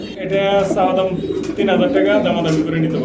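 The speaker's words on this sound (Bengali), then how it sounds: "খুবই চমৎকার বিউটি কবুতর জোড়াটা" Pigeons coo close by in repeated soft, throaty calls that overlap, with faint voices underneath.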